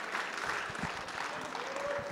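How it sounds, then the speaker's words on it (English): A congregation at a Thanksgiving worship service bursts into steady, dense applause that fills the whole short stretch at an even, moderate loudness. "You can applaud."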